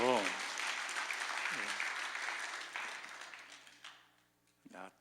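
A preacher's voice gives way to congregation applause at a church revival service, a steady patter of clapping that fades out after about four seconds before a voice speaks again.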